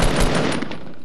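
Rapid gunfire in a VR shooter game, a dense, loud burst of shots that trails off over about a second, with no voices.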